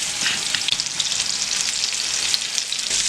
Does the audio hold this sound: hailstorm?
no